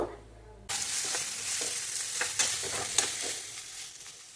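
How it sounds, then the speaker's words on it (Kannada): Finely chopped onions hit a hot pan and fry with a sudden close sizzle, followed by scattered stirring scrapes and small pops over a steady hiss. "ಈರುಳ್ಳಿ ಎಲ್ಲ ಚೆನ್ನಾಗಿ ಫ್ರೈ ಆಗಬೇಕು"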